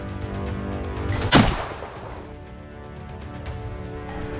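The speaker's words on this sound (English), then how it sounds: "a sharp gunshot echoed across the hillside" A single sharp gunshot cracks out in dense forest during a wild boar hunt, loud and close, with a short burst and a rumbling echo that fades across the hillside.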